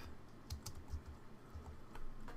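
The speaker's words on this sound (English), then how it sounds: "we're just going to scroll up and type" Code is typed on a computer keyboard in short, quiet runs of keystrokes, clicking softly and unevenly with small pauses, alone and without speech.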